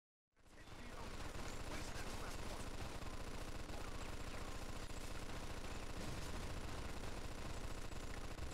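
Relentless automatic gunfire in Mafia II, starting abruptly after a moment of silence and continuing as a dense, loud, rapid stream of shots for the rest of the clip, with no pauses.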